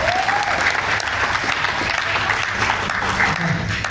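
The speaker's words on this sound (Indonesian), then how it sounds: "tepuk tangan buat Ponina." Audience applause at a mayor's Ramadan fast-breaking gathering, a dense continuous burst of clapping with faint voices underneath.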